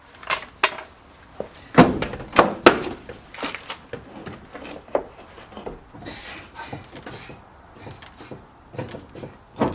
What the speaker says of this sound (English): we're going to open the driver's door